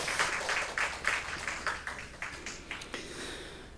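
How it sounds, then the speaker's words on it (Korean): Applause from a church congregation during a Sunday morning worship service, a steady wash of many hands clapping with rhythmic pulses, moderately loud in a reverberant hall and fading slightly toward the end. "우리 박수로 축복하겠습니다."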